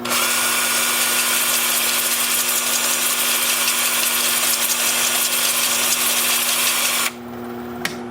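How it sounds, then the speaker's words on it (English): A steady, loud mechanical whine of a wood lathe spinning at 350 RPM, forward then in reverse, runs continuously, then cuts out abruptly near the end. "The lathe is spinning forward at 350 RPM. And then in reverse as well."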